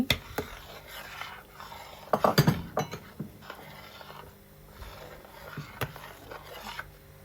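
A spoon stirs a pot of kaun rice kheer with sugar, giving scattered close scraping and clinking bursts, the loudest cluster midway, with quiet stretches between.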